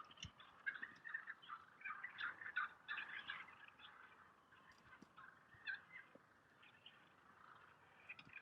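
Several wild turkey toms gobble repeatedly from a field, their rattling calls overlapping in bursts at moderate distance, with quieter gaps and faint outdoor ambience between.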